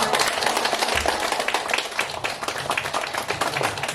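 An audience at a lecture concert applauding, a dense, steady patter of many hands clapping together, close and continuous for several seconds with no talk.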